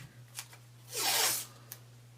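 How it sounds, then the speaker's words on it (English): Tape is pulled and pressed onto a painting canvas, a single close, rasping tearing sweep lasting about half a second, with faint taps before and after. "I just put the tape on."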